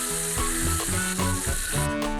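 Marinated banana skin bacon frying in a pan, a dense steady sizzle with bubbling crackle throughout, close and loud.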